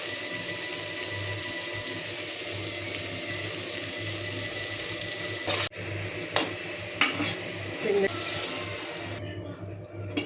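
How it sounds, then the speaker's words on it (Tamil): Water poured into a cooking pot for mutton biryani, a continuous splashing rush with faint sizzle beneath, followed by a few sharp pot clanks and stirring knocks near the end. "தண்ணி ஊற்றியாச்சு."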